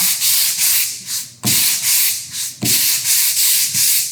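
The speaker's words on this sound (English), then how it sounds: "This is a hand sander, sanding block, and we just get pieces of sandpaper and we cut them and put them in here." A hand sanding block fitted with cut sandpaper rubbing across a wooden sign, giving loud, close, raspy back-and-forth strokes with two brief pauses as the stroke changes direction.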